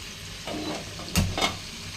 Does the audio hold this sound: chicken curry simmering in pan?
yes